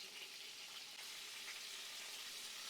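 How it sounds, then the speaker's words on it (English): Steady, bright sizzling of large giant freshwater prawns frying in hot oil, a constant hiss with no voices, close and moderately loud. "I'm going to lightly fry these large prawns"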